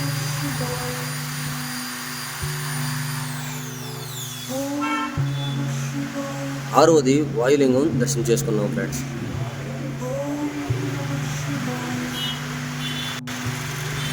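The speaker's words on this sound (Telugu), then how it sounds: "తిరిగి ఆటోలో స్టార్ట్ అయ్యాము ఆటోలో వెళ్తున్నాము" The engine of a moving auto rickshaw hums steadily, close and constant, along a giri pradakshina route, while someone talks over it midway.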